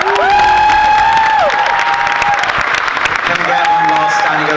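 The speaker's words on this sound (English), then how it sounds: "we get one last standing ovation for Alex Grace, our director" A crowd at a film premiere panel gives a standing ovation, loud sustained clapping and cheering throughout, with tonal whistles or sung calls rising above the applause.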